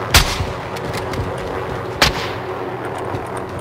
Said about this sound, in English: One's shooting right here.